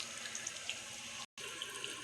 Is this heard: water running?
yes